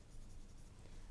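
Marker or chalk writing numbers on a classroom board during a decimals lesson, a steady scratchy stroke running the whole time, fairly faint and alone.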